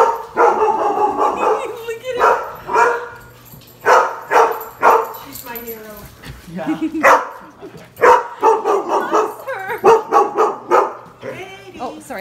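A fluffy young service dog prospect gives scattered barks and yips through a stretch of close, lively human chatter, the dog's sounds partly masked under the talk.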